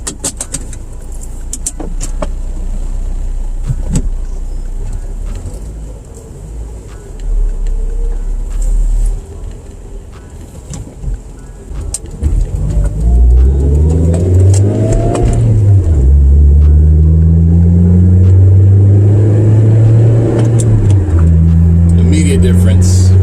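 A Mazda MX3 fitted with bronze shifter bushings is driven, its engine idling, then revving up through gears with rising and falling pitch sweeps, loud and close from inside the cabin; talking is heard in the early part.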